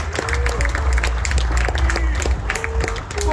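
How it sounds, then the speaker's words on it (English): Conference audience applauding, a dense, loud wash of clapping with crowd noise and some voices mixed in, sustained for a few seconds. "Please give everyone a round of applause"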